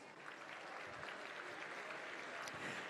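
An audience at the Black and White Ball, a celebration and business awards gala in Arizona, claps in a sustained even wash that holds steady from start to finish at a moderate distance.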